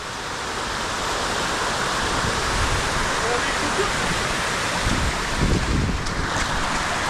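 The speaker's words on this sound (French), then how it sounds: "elle est vache cette cascade dis donc" A mountain waterfall roars in a continuous broad wash of rushing water, loud and close, with wind buffeting and brief sounds of movement near the end.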